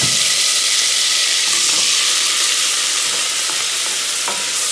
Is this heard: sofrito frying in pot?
yes